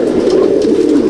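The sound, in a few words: pigeons in a loft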